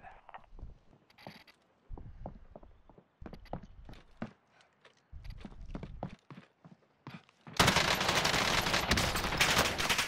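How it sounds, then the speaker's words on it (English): Video game gunfire in a multiplayer firefight, with scattered single shots and short bursts early on, then a loud sustained volley of rapid fire at the end. "Get under heavy fire here! Shit! I'm taking fire!"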